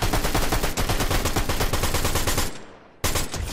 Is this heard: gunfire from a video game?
yes